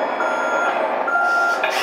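A P801 1/12-scale RC military truck with a metal 8x8 chassis backs up with its reversing alarm on, a steady electronic beeping that repeats evenly and close, with no talk.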